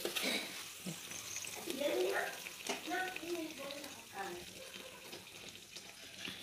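Pea-stuffed kochuri puris deep-frying one after another in hot oil, a faint steady sizzle and bubbling with soft stirring clinks, under a voice talking throughout.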